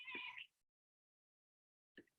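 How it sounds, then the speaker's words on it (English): A house cat meows twice indoors, a bright clear call up close followed after a pause of silence by a second shorter, softer meow. "You might be able to hear my cat there."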